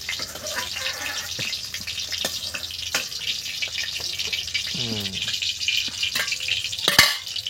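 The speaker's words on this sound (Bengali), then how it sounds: "এবার এই তেলের মধ্যে এই আলুগুলো আমি একটু নেড়ে চেড়ে নেবো" Potatoes being stirred in hot oil while making a Bengali cauliflower curry (fulkopir rosa): a steady, close frying sizzle broken by scraping and clinking stirs, with a sharp clatter near the end.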